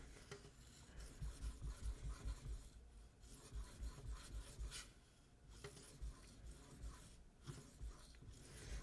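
A Spyderco Endura blade in K390 and S30V steel is sharpened freehand on a stone, giving soft rhythmic rasping strokes that repeat steadily at close range and low volume, with no voices.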